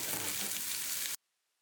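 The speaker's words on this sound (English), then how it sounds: "As you can see, the ham is popping out of the pan" Chopped ham and onions sizzle loudly in hot olive oil in a pan, a dense, close frying crackle that cuts off abruptly into silence.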